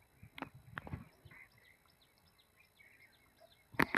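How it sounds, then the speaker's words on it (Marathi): Sparrows chirping at night near a wheat field, a faint scatter of quick high chirps across the scene, with a few louder thumps and rustles close by. "किती छान चिमण्या चिवचिव चिवचिव करतायत"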